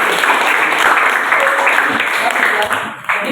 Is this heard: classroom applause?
yes